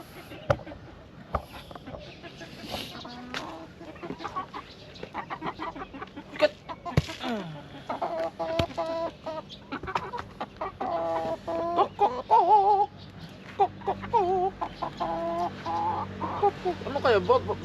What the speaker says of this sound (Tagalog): Babae kaya to o lalaking manok?